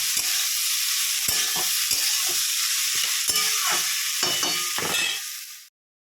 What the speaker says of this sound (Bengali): একটু ভালো করে ভাজা ভাজা করে নেব।